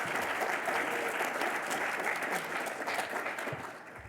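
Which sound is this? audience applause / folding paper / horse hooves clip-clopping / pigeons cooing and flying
audience applause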